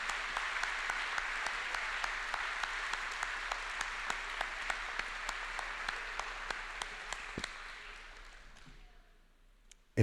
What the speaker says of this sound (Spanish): E ao Senhor vamos dar um aplauso.